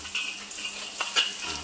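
Belacan shrimp paste broken into small pieces fries over low heat in a pan, a brief steady sizzle with a couple of sharp spits and crackles, close and quiet.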